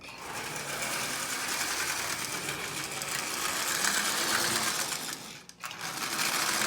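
A Marx double reduction toy train motor runs continuously with a dense mechanical whir and gear buzz, close and steady, dipping briefly near the end before picking up again.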